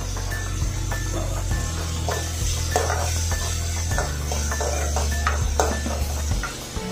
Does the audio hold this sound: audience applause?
no